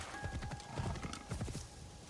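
Horse hooves clip-clop in rhythmic bursts in the Assassin's Creed Shadows video game, fairly close and steady over a low background hum, with no talking over them.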